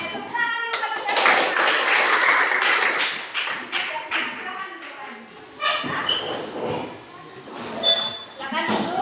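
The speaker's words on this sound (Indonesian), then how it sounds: "Tepuk tangan dulu satu-satu." Classroom students clapping in short bursts, one group after another, with children's voices and chatter between the rounds of claps, close and lively.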